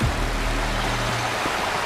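Rushing waterfall in the game Wuthering Waves, a steady broadband roar of falling water heard up close, with a low rumble throughout and no voices.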